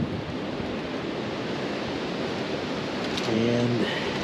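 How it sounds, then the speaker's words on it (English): Cold wind blows across an outdoor construction site where an old garage roof is being repaired, a steady, fairly loud rushing hiss, with a brief voice near the end. "And it is cold and windy."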